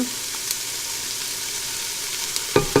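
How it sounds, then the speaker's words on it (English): Vegetables and green onion sauté in a pan for creamy chicken tortilla soup, giving a steady close sizzle with occasional clinks and a couple of sharper stirring knocks near the end. "And we just want to lightly saute these vegetables."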